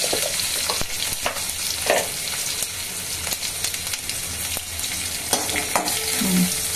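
Chopped green chillies and cumin seeds fry in hot oil, a loud close sizzle broken by sharp crackles and a few spoon scrapes, with no talking.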